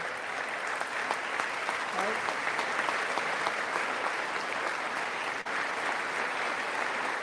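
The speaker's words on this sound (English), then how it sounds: "I see some clapping on the Democrat side, but a lot of sitting" Applause in the chamber during a State of the Union address, a sustained, even roar of many people clapping, moderately distant and steady for about seven seconds, with a brief dip near the end.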